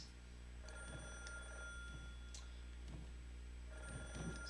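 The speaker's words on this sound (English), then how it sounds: "Now we have a phone to answer." A telephone in the horror game Calling rings in faint, repeated bell bursts over a steady low hum.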